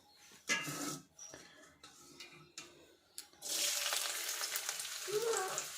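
Eggs frying in a pan beside cooking lentils, a loud steady sizzle swelling in the latter half of the clip after a few scattered kitchen clatters and quiet spells, with faint running water near the end.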